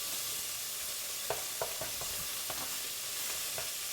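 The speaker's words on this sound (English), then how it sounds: "We'll just brown the bacon up." Bacon browning in a pan with paddlefish on the menu, giving a steady faint sizzle with scattered soft clicks and scrapes of stirring, no talking.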